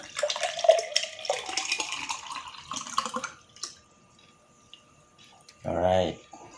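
Kamiyachee juice poured into a glass, a splashing, trickling stream for a few seconds that fades into near quiet, followed by a short louder sound.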